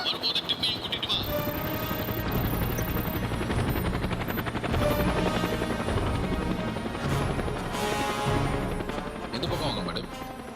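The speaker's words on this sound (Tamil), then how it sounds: "லீனா, ஹெலிகாப்டர் வந்தாச்சா?" A continuous helicopter roar with rhythmic rotor chopping fills the whole stretch, mixed with music and other dramatic effects, in a Tamil-dubbed action movie.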